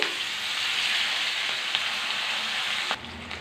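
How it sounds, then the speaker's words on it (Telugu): Tempering spices (cumin, turmeric, dried red chilies), garlic, curry leaves and onions fry in hot oil for carrot rasam with a loud, steady sizzle up close, which drops off abruptly near the end. "ఉల్లిపాయలండి వేపుకున్నాము. దారగా వేపుకొని తాలింపు పెట్టుకున్నాం."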